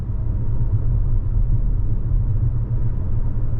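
The 4-cylinder engine of a 2023 Toyota Corolla Cross XLE AWD cruises with a steady, low, even rumble heard from inside the cabin, with no talk over it.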